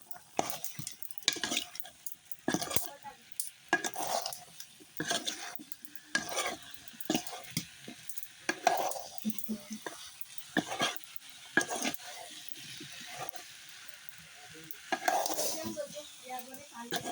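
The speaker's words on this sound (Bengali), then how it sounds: "চামচ দিয়ে নেড়ে দেবো, সব একসাথে মিশিয়ে নেব।" A spoon stirs and mixes spiced food with chilli powder in a pan, producing irregular scraping and clinking strokes over a faint sizzle, close up and without talking.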